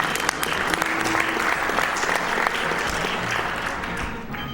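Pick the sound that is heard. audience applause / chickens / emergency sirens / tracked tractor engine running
audience applause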